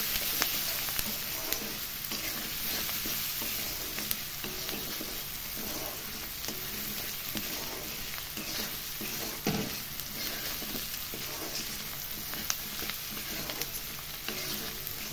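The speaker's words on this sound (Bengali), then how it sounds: "এটাকে ভালো করে নেড়ে চেড়ে একদম বেরেস্তার মতো করে ফেলব।" Onions fried in oil for a red lentil soup and stirred until golden, a steady close sizzle with frequent spoon scrapes running throughout, no voices.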